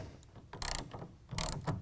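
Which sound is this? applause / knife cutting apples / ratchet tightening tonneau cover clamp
ratchet tightening tonneau cover clamp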